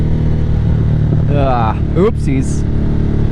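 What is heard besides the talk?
Harley-Davidson Nightster motorcycle engine revving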